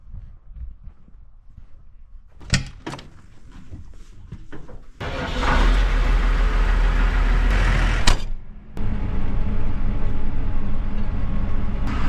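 A farm tractor's engine starts up in a yard after a few clunks and knocks, then runs as a loud, steady, close-up roar for the rest of the clip.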